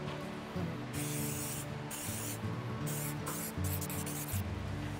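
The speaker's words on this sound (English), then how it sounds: "we're just gonna spray it with a nice light" An aerosol spray can sprays a light coat onto an epoxy mold in short hissing bursts, four or five close bursts with brief pauses between them.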